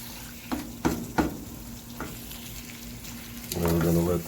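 Marinara sauce stirred into a pot of Italian sausage and pepperoni over a low sizzle, with several distinct spoon scrapes and knocks, then a louder bubbling hiss toward the end.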